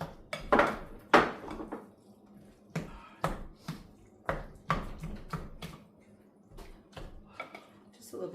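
Spatula scraping and knocking in a pan while green chile salsa is made, a series of separate scrapes and clinks with quiet gaps, near, with a voice talking between them.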